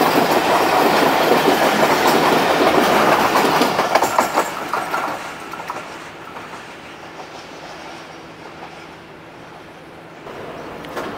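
The Awam Express rolls along the rails past Sohawa railway station with a loud, continuous rumble and clickety-clack that gradually fades to a quieter, steady hum.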